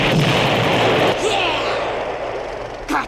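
Explosion from helicopter mini-rockets in a 1993 Hawaii-set action film, a loud close blast and rumbling roar that slowly fades, followed by a sharper burst near the end.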